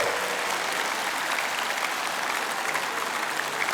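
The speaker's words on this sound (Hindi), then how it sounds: "एक बारी अपने लिए भी जोरदार तालियां बजा दें।" Audience applause in a hall, steady and dense throughout, a sustained wash of many hands clapping with no break or voice over it.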